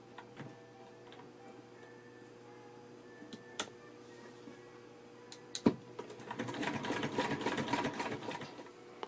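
A c1910 New Home New National 3/4 size treadle-style sewing machine, quiet clicks and ticks at first, then a few sharp knocks before settling into a steady, rapid mechanical stitching chatter that grows louder, heard close with no talking.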